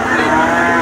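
A large cow in her third lactation moos at a livestock market in Sangola, Maharashtra: one loud, sustained, close-up bellow filling the whole moment, with no other voices over it.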